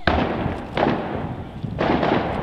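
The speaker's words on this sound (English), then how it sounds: "It started with an explosion in the parking lot." An explosion goes off in a high school parking lot during a police active shooter training drill: three loud, booming blasts in quick succession, each with a reverberating tail.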